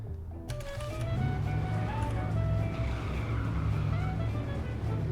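Car engine revving steadily in a delivery driving video game, with drifting and a faint tire squeal layered over the continuous motor drone, close and sustained without talk.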